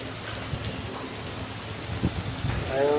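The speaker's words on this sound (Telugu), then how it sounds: "సడన్గా స్టార్ట్ అయింది వర్షం." Sudden rain falling outdoors, a steady soft patter of drops on surfaces with a few nearer splashes, moderately faint and continuous, swelling slightly at the end.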